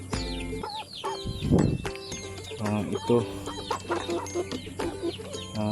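Free-range chickens in a backyard run cluck and squawk in repeated short bursts, close by, while someone talks over them.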